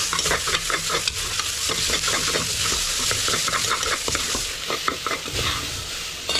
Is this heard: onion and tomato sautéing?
yes